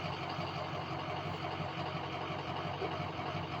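A vehicle engine idles steadily nearby, a low, even rumble with a slight rhythmic pulse and no talking.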